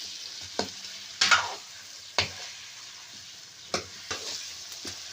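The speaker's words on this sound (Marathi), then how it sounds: "आपल्या कढईमध्ये आणि हे सर्व पहिल्यांदा मिक्स करून घ्यायचं" Eggplant and potatoes stirred in a pan, with several sharp scrapes and knocks of a utensil against the metal over a low steady sizzle.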